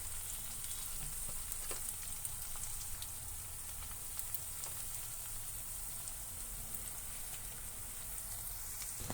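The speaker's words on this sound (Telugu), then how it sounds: "ఇవన్నీ బాగా మిక్స్ చేసుకోవాలి సో ఇదంతా బాగా ఫ్రై అయిన తర్వాత" A masala paste seasoned with salt, turmeric and chili powder fries in a pan for an egg curry, a steady close hiss of sizzling oil with faint stirring underneath throughout.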